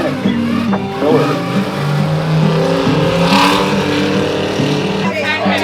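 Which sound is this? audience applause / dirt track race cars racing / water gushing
dirt track race cars racing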